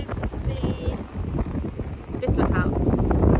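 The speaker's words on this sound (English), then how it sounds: "It's very, very windy." Strong wind buffeting the microphone at a coastal lookout in Queensland, gusting roughly throughout with a faint voice and rustling mixed in.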